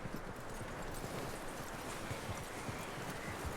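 Horse hooves clip-clop steadily on the ground in Red Dead Redemption 2, a faint, continuous rhythm of footfalls with light background ambience.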